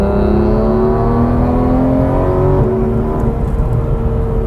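A Porsche 991.1 GT3 RS cruises through city traffic on EDSA, its engine a loud, steady close-up drone that climbs gently in pitch before a brief change in tone and settling back to an even hum.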